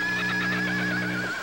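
An injured horse lets out a loud, sustained, wavering whinny close by, with no other sound over it.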